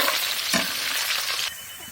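Chilli, chopped garlic and onion fry in hot oil with a bright, hissing sizzle that holds steady, then drops slightly quieter near the end.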